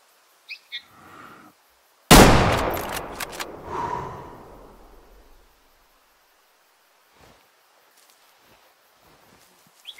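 A single loud, close rifle shot rings out in the Way of the Hunter video game, fired at a 3-star mature greater kudu. It booms with a long decaying tail, after a few faint bird-like chirps, then quiet ambience with small scattered sounds.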